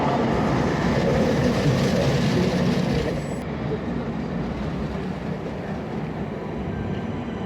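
The Galactica roller coaster at Alton Towers, a loud continuous rumble and rattle of the train on its track that drops slightly in level partway through and then rolls on steadily.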